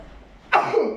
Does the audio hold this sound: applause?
no